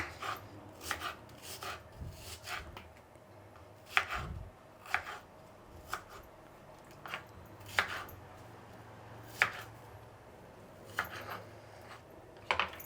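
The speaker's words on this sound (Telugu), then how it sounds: "మసాలా రెడీ చేసుకునేకి ఎర్రగడ్డలు కోసుకునేద్దాం" A knife chops onions on a cutting board for masala, making sharp, close, fairly quiet strikes at an uneven pace of roughly one per second, with no talking.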